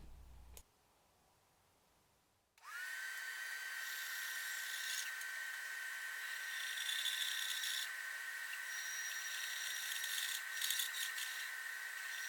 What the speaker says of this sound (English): After the rough shape was cut with the bandsaw